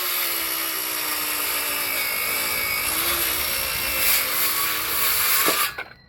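A saw cuts through scrap wood outdoors to size a bench, a steady loud rasping whine running for about six seconds before stopping abruptly, with no talking over it.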